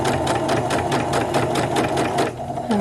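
Sewing machine stitching along a formal dress seam, a steady rapid mechanical chatter of the needle running for a few seconds before slowing to a stop.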